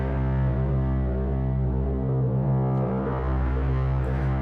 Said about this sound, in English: So there's this kind of drone going on all the way through.